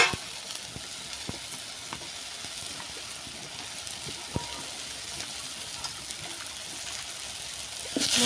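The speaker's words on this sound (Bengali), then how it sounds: "এবার এর মধ্যে কেটে রাখা টমেটোগুলো দিয়ে দেবো। সবগুলো আমি ভালো করে আগে ভেজে নেব।" Chopped tomatoes and spices frying in a pan, a steady close sizzle with faint stirring scrapes and small pops throughout, heard alone.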